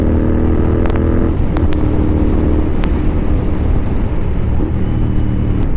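A Royal Enfield GT650 engine drones loud and close in a steady, low rumble while engine braking on a long highway ride, with a couple of faint higher ticks above it.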